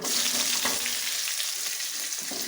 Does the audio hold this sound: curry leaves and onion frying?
yes